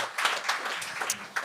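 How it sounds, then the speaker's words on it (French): A studio audience at a comedy talent show applauds, a short burst of dense clapping at moderate loudness. "Ça mérite vraiment un applaudissement."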